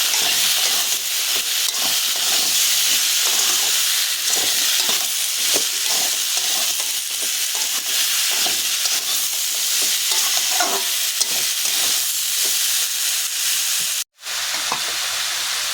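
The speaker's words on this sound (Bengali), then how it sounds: "দিয়ে আমি ভালো করে নাড়াচাড়া করে নেব।" Prawns are stirred with turmeric powder and salt in a pan over a steady, loud sizzle, with spoon scrapes scattered throughout. The frying noise drops to silence for an instant near the end.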